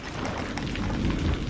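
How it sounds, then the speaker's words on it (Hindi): Heavy rain pours near a railway station, a dense, steady roar of falling water with a low rumble that fills the short stretch and has no voices. "ओह, ये बारिश तो रुकने का नाम ही नहीं ले रही है।"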